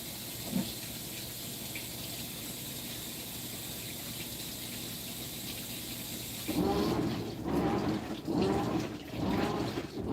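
A washing machine fills with water, a steady rushing flow that grows louder and more turbulent partway through, with surging pulses of splashing; the machine's display and timer had been faulty.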